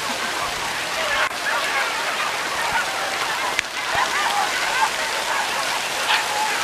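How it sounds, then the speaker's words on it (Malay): Rain falls steadily with a dense hiss and occasional sharper drips, while faint voices and bird calls sit in the background. "Hei, hari hujan."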